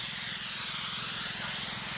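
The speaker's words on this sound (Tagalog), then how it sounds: "yan yung labas ng ating spray gun" Spray gun sprays water on a farm with a steady, broad hiss, close and continuous, over a low pulsing hum from its pump.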